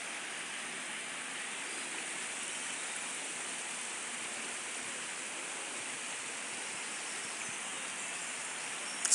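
River water rushes steadily below a high stone wall at a cemetery in Bolton, a constant broadband wash with no change in level, heard alone without voices.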